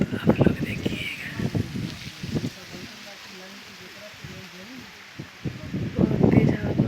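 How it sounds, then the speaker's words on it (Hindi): Strong wind in a village mango orchard, rustling leaves in gusty bursts that surge loud, ease off, then build again, with someone talking over it. "बहुत तेज हवा बढ़ रही है दोस्तों"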